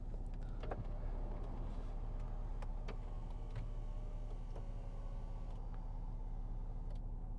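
The electric memory seat motor in a 2013 Range Rover Sport 3.0 SD V6 HSE hums quietly and steadily inside the cabin, with faint ticks and clicks over the low drone.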